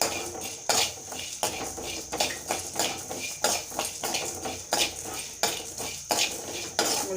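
A utensil clatters steadily against a pan while onions are stirred and sautéed for tomato kurma, producing loud, close, rapid scraping and clinking strokes in a continuous rhythm.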